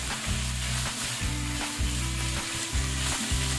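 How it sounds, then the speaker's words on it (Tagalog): Shredded boiled chicken thigh fries in a pan with a loud, steady, close-up sizzle and crackle, joined by a regular low thumping underneath. "So, ipiprito-prito lang natin muna dyan."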